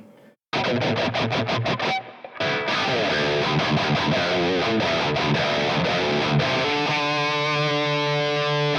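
Heavily distorted electric guitar through a boosted Leeky X10 Tiger amp modeler, chugging in fast palm-muted bursts, then ringing into thick sustained chords, loud and saturated.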